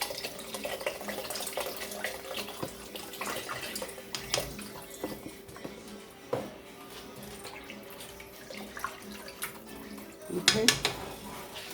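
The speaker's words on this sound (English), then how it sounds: "You want to put like 6 cups of broth in it." Chicken broth is poured into a soup pot for chicken and dumplings, a faint splashing trickle punctuated by clinks of containers and cookware, with a brief spoken word.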